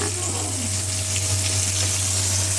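Fish frying in a pan over low heat, a steady soft sizzle and crackle with a constant low hum beneath, no talking.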